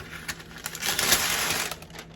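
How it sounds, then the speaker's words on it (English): Parchment paper crinkled and folded over a pot of stuffed mussels to seal it, a close, dense rustling crackle that swells in the middle and fades, with no talk. "Parchment paper"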